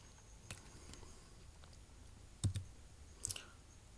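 Computer mouse clicks at a desk, a handful of sharp isolated clicks spaced irregularly over faint room hiss, close and fairly quiet.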